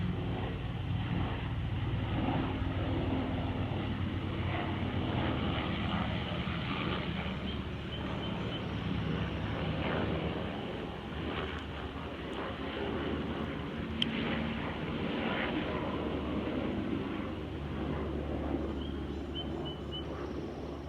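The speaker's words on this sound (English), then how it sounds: "I'm gonna let that helicopter go by real quick." A low, steady rumble of a helicopter passing overhead, sustained for a long stretch at a distance with no talking.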